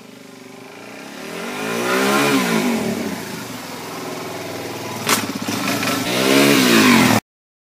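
Motorcycle engine revving up as the rider gains speed to roll a stoppie, pitch climbing and falling through gear changes, loud and close, a brief sharp click midway, then cutting off abruptly.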